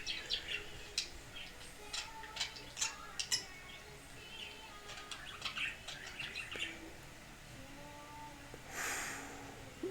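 Pet birds in a room chirp and tweet in quick, scattered bursts, with a few squawky calls mixed in. The sound stays soft and somewhat distant, and a brief rushing noise comes near the end.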